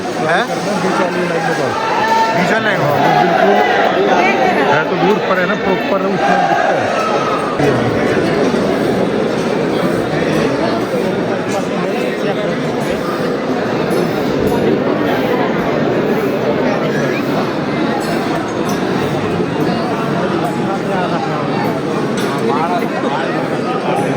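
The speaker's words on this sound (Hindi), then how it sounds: "ये कितनी भीड़ आ गई है?" A large crowd of pilgrims mills around Khatu Shyam temple in Rajasthan, making a steady, dense murmur of many voices and footsteps that stays loud throughout, with a nearby person talking over it.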